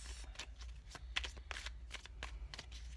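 Tarot cards being shuffled by hand at close range, with a rapid run of crisp riffling flutters in quick succession and no talking.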